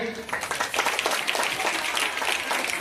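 An audience at a Ganeshotsav event with a senior citizens' performance claps steadily, a dense patter of many hands mixed with voices throughout.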